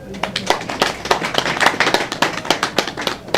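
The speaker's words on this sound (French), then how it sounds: "Je voudrais que toute l'assistance les applaudisse." Audience applause at a service handover ceremony at SOMISEN, a steady stream of sharp, close hand claps from many people, loud and continuous throughout, with some voices mixed in.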